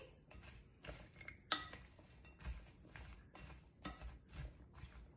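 Ash gourd pieces tossed with turmeric and salt, giving faint, irregular clinks and rustles of mixing, quiet and close, with no talk.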